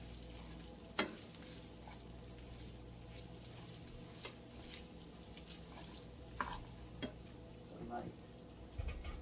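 Breakfast sausage fries in a pan with a quiet, steady sizzle, broken by a few soft scrapes and knocks as it is stirred; no voices are heard.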